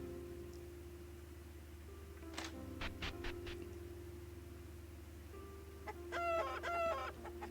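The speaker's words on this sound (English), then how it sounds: "My chickens!" Chickens cluck in an RPG Maker VX Ace game, a few short bursts of squawks and clucks over a steady background hum.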